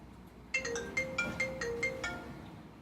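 Telephone ringback tone from an outgoing call to a physician, a repeating electronic warble in even bursts roughly every half second, moderately loud and alone with no talk.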